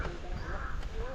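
A crow caws close by over a papaya plant, with harsh repeated calls rising above steady outdoor rumble and low background voices.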